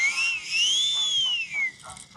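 A high, smooth whistle from a toy aeroplane that rises and falls in pitch like a passing jet, followed by a few softer airy puffs.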